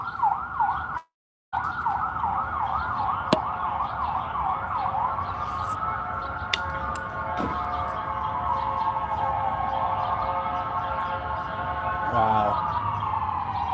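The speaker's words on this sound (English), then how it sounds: "This is the first time I hear that horn, that sound on an ambulance." A decommissioned ambulance back in service sounds its siren loudly nearby, rapid warbling tone slowing into long rising and falling sweeps, with a brief gap and a short exclamation from someone.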